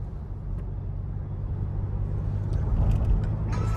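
A diesel car pulls away from a fuel station after refueling, its engine a low steady rumble that grows slightly louder as it moves off, with faint higher clatter near the end.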